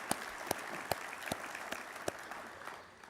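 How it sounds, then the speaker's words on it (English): An audience at a naval sea services expo keynote applauds steadily, a dense wash of clapping with a few sharp individual claps standing out, fading slightly at the end. "So how about a round of applause for Bob and Pete?"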